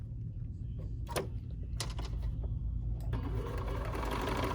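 A BERNINA 4, 5 or 7 Series sewing machine runs a row of tiny stitches, its steady motor hum and fast needle clatter close and continuous, with a few sharp clicks scattered through it.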